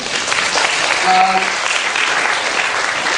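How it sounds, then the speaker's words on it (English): Brief, loud burst of audience applause in a school hall during an interview skills talk at a Christian secondary academy; dense clapping fills about three seconds, with a faint voice heard partway through. "give a big round of applause to Sophie"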